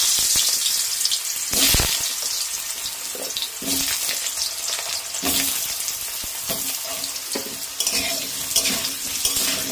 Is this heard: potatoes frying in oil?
yes